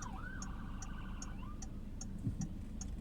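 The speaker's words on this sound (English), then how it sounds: "You hear that? You hear that? Ambulance." An ambulance siren passes outside, a steady wailing tone that sweeps up and down over a low background rumble, with regular faint ticking clicks alongside.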